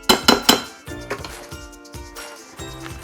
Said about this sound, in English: I'm gonna finish the last little bit by hand because then I can make sure I get everything scraped from the bottoms and the sides